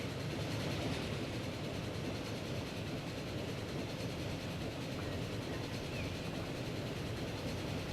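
A train from around 1910 rushes past in the rail simulation game Transport Fever, a steady, broad rumbling roar that holds at a moderate level throughout with no talking.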